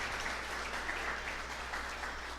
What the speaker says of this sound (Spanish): Un aplauso para la hermana, por favor.